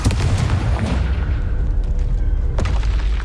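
Confringo fire spells explode in the video game Hogwarts Legacy as loud, deep, rumbling booms: a dense barrage of blasts at the start and another sharp burst near the end, with no voices.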